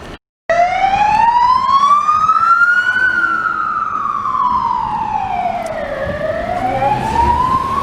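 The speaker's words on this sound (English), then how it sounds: "that was difficult for the police car to get through with all the traffic" A police car siren wailing through traffic in Wellington, loud and close, its pitch sweeping slowly up and down over several seconds with road rumble beneath.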